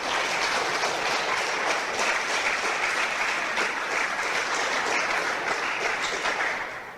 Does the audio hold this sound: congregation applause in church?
yes